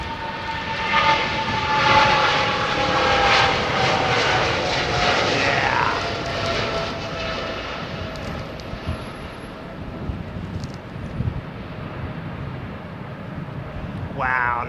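Boeing 777 airliner engines at Heathrow, a loud broad roar with a whining tone that sweeps downward as the jet passes, then fades to a lower steady rumble.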